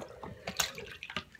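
A white phone case is dipped and rinsed in soapy water, giving quiet splashes and dripping sloshes in a sink, close and faint, with no talk.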